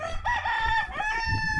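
A farm chicken calls up close with a rising, crowing cluck of strained tonal squawks, loud and alone for under two seconds.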